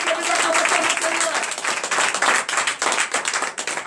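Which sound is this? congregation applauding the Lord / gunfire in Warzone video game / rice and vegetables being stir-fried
congregation applauding the Lord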